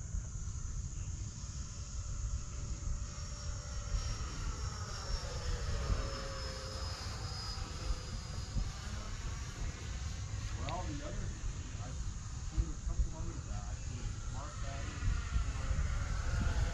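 Arrows Marlin RC jet flying high overhead, its thin whine drifting and shifting in pitch as it passes, fairly faint and distant against steady background rumble, with occasional voices.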